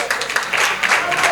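An audience at a Punjabi poetry mushaira breaks into brief, dense clapping that sounds close and loud for a moment.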